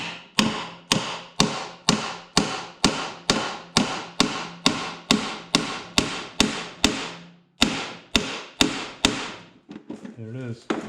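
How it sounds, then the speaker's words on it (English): A hammer taps repeatedly on the nut of a Redmax 8500 backpack blower in a steady run of about twenty sharp, close knocks. After a brief pause, a few more taps follow and then some light handling noise. "give it a couple taps right on the nut there."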